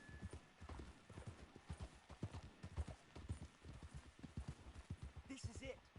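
Horse hooves clip-clop at a steady walking rhythm in Red Dead Redemption 2, close and continuous over ambient noise, with a voice speaking briefly.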